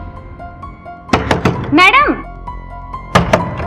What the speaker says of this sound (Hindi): उस दिन हम उनका बहुत देर तक दरवाजा नॉक करते रहे।